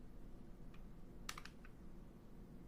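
A short burst of keystrokes on a computer keyboard while entering a browser name, a few quick clicks clustered near the middle over a steady background hum.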